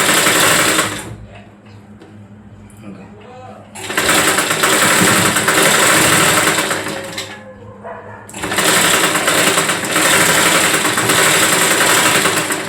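A sewing machine runs in long steady bursts while stitching a blouse, loud and close, stopping briefly between seams, with quiet speech in the pauses.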